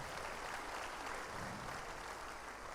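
A crowd at an Islamic religious gathering claps together in steady, dense applause that stays loud and even throughout, close and alone without talk.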